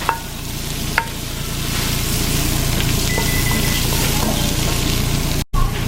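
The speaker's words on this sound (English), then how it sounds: "Now I have added the mushrooms, and I'm going to stir well just to coat it with the stuff that was in there" Mushrooms stirred in a pan and left to cook, a steady close sizzle with a couple of sharp utensil knocks near the start and a brief dropout near the end, no voices.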